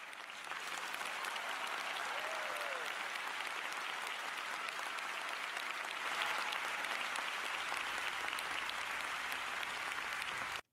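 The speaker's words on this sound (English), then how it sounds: "Fucking 35 seconds of applause." Recorded applause from a livestream audience, a long even roar of many clapping hands that holds steady at a distance before cutting off abruptly at the end.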